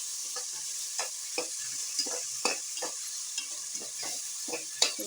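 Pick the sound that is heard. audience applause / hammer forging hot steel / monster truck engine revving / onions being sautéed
onions being sautéed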